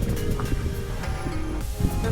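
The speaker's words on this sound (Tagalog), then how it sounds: "Sarap ng hangin." Steady outdoor wind buffeting the microphone on a ride through Tsuen Wan, a continuous broadband rush at constant loudness with faint rumble beneath and no talk.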